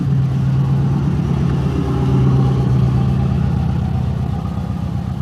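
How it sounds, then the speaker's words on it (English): A truck passes by outdoors, its mid-pitched engine droning loudly and steadily nearby, swelling slightly midway and then easing off, with no talking over it. "Let this truck pass by."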